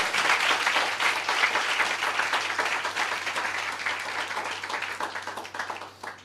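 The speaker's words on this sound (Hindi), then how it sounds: "क्या हम इस वचन के लिए ताली बजा सकते हैं?" Worshippers in a church service applaud together, a thick, sustained roar of clapping from many hands that holds steady for several seconds before tapering off near the end.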